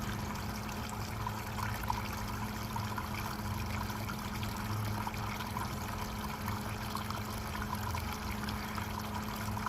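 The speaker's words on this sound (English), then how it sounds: "What I like about that little drip system, it only lets a little out at a time." Water trickles steadily from a small drip system feeding paydirt during outdoor gold panning, a faint, continuous, even wash with no talk.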